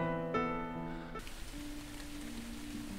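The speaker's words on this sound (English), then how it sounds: "Raindrops." Rain falls in a video game as a soft, steady patter that takes over after a brief sustained musical chord, with a low tone humming beneath it.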